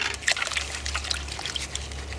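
Cold water trickling and splashing steadily in a backyard garden in April, a soft continuous dribble with brief louder spatters, close by, under a low steady hum.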